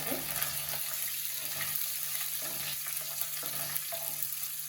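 Coriander frying in a pan, a steady hissing sizzle with intermittent stirring scrapes and a constant low electrical hum beneath, close and moderate in level.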